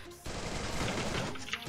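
A loud, dense burst of rapid automatic gunfire in the Free Fire video game during a ranked squad match, lasting about a second before fading.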